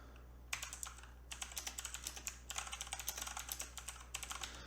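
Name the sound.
typing on a computer keyboard in Word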